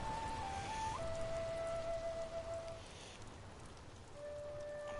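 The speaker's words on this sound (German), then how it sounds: "Und es regnet mal wieder." Steady rain falls in the Ghost of Tsushima game world, a soft even hiss with faint tonal game sounds drifting over it and no talk.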